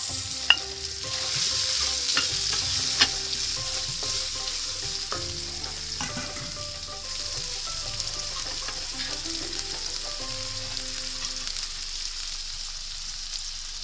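Ginger and garlic frying in oil in a rice cooker, a steady close hiss of sizzling with occasional stirring clinks and scrapes, no voices.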